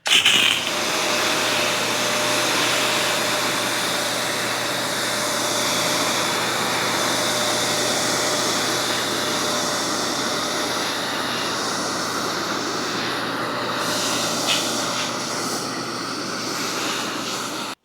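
A pressure washer fitted with a Fooco 15-inch surface cleaner rinses soap off a surface with a steady, loud, unbroken spray and motor roar that runs throughout without any talk.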